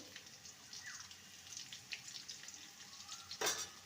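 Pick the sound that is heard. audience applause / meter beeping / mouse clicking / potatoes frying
potatoes frying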